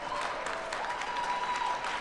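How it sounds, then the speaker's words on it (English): Audience at a Minnesota survivors' justice action day clapping steadily, a short dense burst of applause at even loudness with no talk over it. "go ahead and clap for that"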